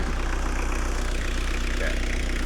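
A 1996 Toyota Corolla with a mechanical pump and mechanical throttle runs close by, giving a loud, rough, steady engine rumble with a rapid pulsing throb and no clear rise in revs.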